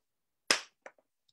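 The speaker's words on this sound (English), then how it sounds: "clap once, go." A group of people claps once in unison during a music lesson: one sharp, loud clap followed by a few faint stray claps.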